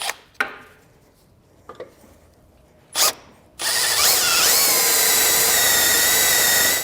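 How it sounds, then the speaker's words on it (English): A power drill bores holes for the bolts of a Roadmaster Direct-Connect base plate kit on a 2023 vehicle; a few sharp taps come first, then a loud, steady, close drilling whine that shifts pitch as it bites. "Once you have them holes drilled,"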